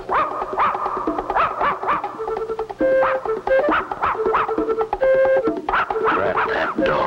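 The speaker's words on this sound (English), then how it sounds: "That mutt has spotted us." An animated cartoon dog barks repeatedly in quick, loud yips and bow-wows, with a few whimpering notes, set against a backing music score.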